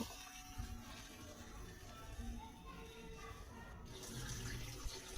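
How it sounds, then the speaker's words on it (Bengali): Water poured into a kadai of blended urad (mashkalai) dal to thin it, a steady splashing pour running for several seconds with faint kitchen noise. "ডালটি বেশি ঘন হয়ে গেছে তাই আমি আরেকটু পানি দিলাম।"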